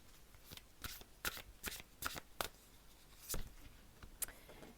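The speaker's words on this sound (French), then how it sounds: "Et regardez, je vous tire la carte 1" Tarot cards are shuffled and drawn in close, crisp riffling bursts, each a sharp papery flutter, repeating irregularly for nearly five seconds in a quiet room with no speech.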